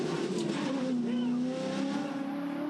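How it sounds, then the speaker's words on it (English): A V8 ute race car engine hangs on its rev limiter, producing a sustained, buzzing high-rpm drone with a faint stuttering pulse. The sound is loud and continuous, with commentary voices faintly underneath. "We could hear it. It was up on the limiter."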